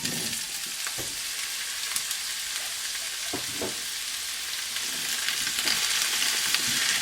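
Chopped daikon radish sizzles as it stir-fries in a pan, a constant bright hiss with a few soft utensil scrapes and taps, close and even throughout.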